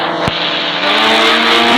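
A car driving in the mobile game Indian Bike 3D makes a loud, steady engine drone whose pitch rises slightly toward the end, with no talk.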